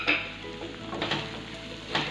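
Small onions with turmeric sautéing in a pan: a steady, close sizzle and fry with stirring scrapes and light utensil clinks against the pan, continuous throughout with no talking.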